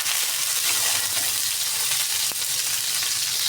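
Tomatoes frying in a pan for a budget home meal, a steady dense sizzle holding at constant loudness throughout, close up, with no talking.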